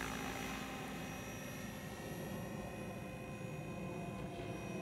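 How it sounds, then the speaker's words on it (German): A model helicopter fitted with a Spirit Geolink unit flies over a field near a runway, its rotor and motor giving a steady, fairly faint whine that holds constant without voices. "Der Hubschrauber kommt zurück."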